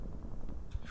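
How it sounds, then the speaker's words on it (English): A grenade blast in the World War II shooter Brothers in Arms: Road to Hill 30 lands in a single loud, broad burst at the very end, after a steady low rumble of battlefield noise. "Actually, this is a solution with the grenade."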